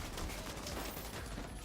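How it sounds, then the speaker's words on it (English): Grenades burst in The Division 2 shooter game, a dense, loud crackle of blasts and gunfire packed into a short noisy stretch with no pauses. "Fucking grenades."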